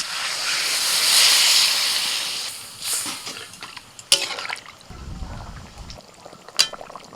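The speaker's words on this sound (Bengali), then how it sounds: "সরষের বাটনাটা দিয়ে 1 মিনিট মতো নাড়াচাড়া করে এবার জল দিয়ে দিচ্ছি" Water hits a hot pan of fried mustard paste, setting off a loud surging hiss that swells and then subsides, followed by scattered clinks and a short rumble of bubbling.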